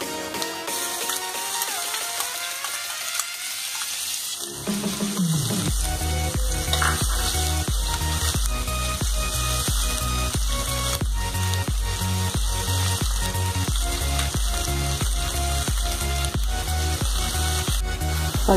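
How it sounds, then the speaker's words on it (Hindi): Ginger and garlic fry in hot oil in a kadai, a loud continuous sizzle with rhythmic stirring scrapes of a spoon against the pan, close and steady throughout. "अदरक लहसुन हल्का सा गोल्डन हो गया है।"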